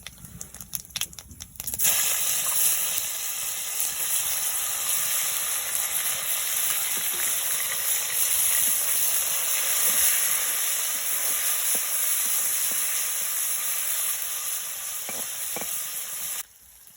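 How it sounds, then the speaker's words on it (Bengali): Chicken and whole cumin seeds drop into hot oil and burst into a loud, steady sizzle with hissing spatter that runs unbroken for about fifteen seconds, after a few brief clatters at the start. "এই তেলের মধ্যে আমি গোটা জিরে দিয়ে দিচ্ছি, আর এই চিকেনগুলো দিয়ে দেবো।"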